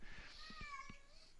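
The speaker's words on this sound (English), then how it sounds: "the cat says hi in the background" A house cat meows faintly in the background, giving one short rising call with a few soft thumps around it.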